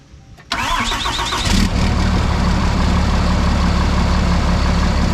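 A compound-turbo 5th Gen Cummins diesel pickup cranks briefly on a portable jump starter, then catches and settles into a loud, steady rumbling idle.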